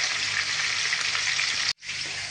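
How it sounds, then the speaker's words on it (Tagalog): Pork rinds (chicharron) and pieces of fish frying in hot oil, a dense steady sizzle and crackle up close, broken by a brief sudden dropout before the sizzling resumes. "So, piprito lang natin."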